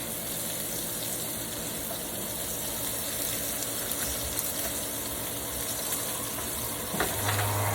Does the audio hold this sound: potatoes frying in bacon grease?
yes